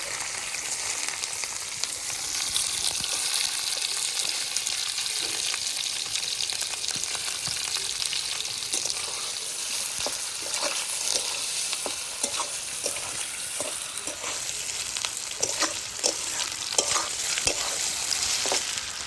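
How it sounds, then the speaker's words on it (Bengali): Pieces of paneer frying in oil in a wok, giving a steady, close, bright sizzle throughout, punctuated by repeated scraping and clinking stirs. "বেশ ভালোভাবে পনিরগুলো কিন্তু ভেজে নিতে হবে।"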